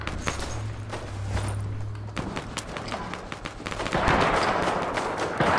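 Gunfire in Fortnite, a handful of sharp shots scattered through the clip, amid footsteps and game ambience, with a denser burst of noise near the end.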